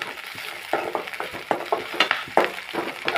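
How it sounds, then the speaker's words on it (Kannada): Vegetables with capsicum stir-fry for vegetable fried rice, a spatula scraping the pan in uneven strokes over a soft steady sizzle, close and clear with no talking. "ನೋಡಿ ಕ್ಯಾಪ್ಸಿಕಮ್ ಹಾಕ್ಕೊಂಡು ಚೆನ್ನಾಗಿ ಫ್ರೈ ಮಾಡ್ಕೋಬೇಕಾಗುತ್ತದೆ."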